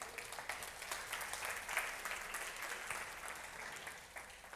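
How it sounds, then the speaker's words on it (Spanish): A church congregation claps for the Lord during a Spanish-language sermon on personal growth: continuous, fairly faint applause from a crowd, sustained evenly throughout without speech. "Dale un aplauso al Señor."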